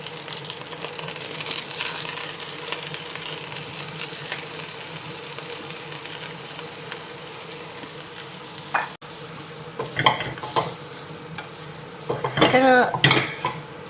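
Hokkien noodles sizzle in a hot wok with olive oil, a steady soft frying hiss, with a few sharper clanks and scrapes of utensils on metal near the end.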